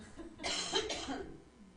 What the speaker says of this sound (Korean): 기침이 뭘 의미한지 모르겠지만